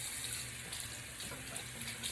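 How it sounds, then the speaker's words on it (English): Warm water running steadily from a tap into a sink, a constant close splashing flow with no voices. "at this point I will take warm water."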